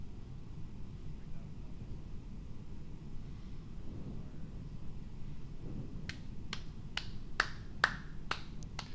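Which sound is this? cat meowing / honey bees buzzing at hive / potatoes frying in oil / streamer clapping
streamer clapping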